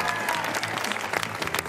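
A studio audience at a reality renovation show finale claps steadily in a dense, continuous burst of applause, close and even throughout the short stretch.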